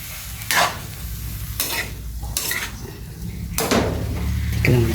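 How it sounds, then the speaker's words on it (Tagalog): Food frying in a pan is stirred by hand, with several loud broadband scrapes of the utensil across the pan over a steady low sizzle, in a simple home-cooked family dish. "haluin lang natin siya ng haluin"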